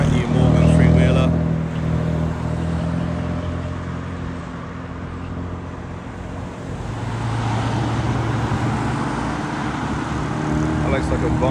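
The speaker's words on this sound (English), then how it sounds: "Brand new Morgan three-wheeler." A brand new Morgan three-wheeler arrives at a supercar event, its engine rumbling loudly at first then settling into a steady drone over road noise, with voices talking nearby.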